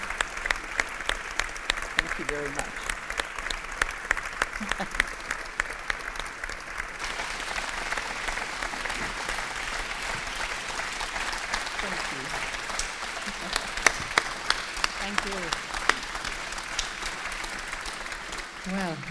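Audience applause after a talk by a speaker at a women in public life event, broad steady clapping throughout with spoken voices over it, including a brief thank-you.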